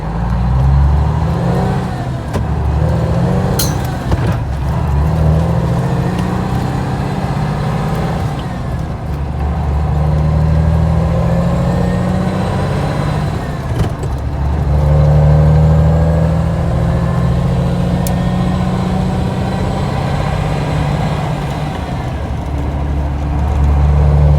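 A Kenworth truck's diesel engine idles hot with zero oil pressure, a loud, continuous low rumble that holds steady for the whole stretch, with a few faint clicks and no talking.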